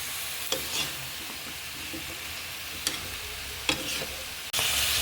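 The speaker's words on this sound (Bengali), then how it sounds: "দেখুন আমার কষাচ্ছি, আমি আরও কিছুক্ষণ কষাবো।" Potatoes, flat beans and parshe fish curry sautéing in a pan, a steady close hiss and sizzle with a few clinks of a stirring spoon, no talk.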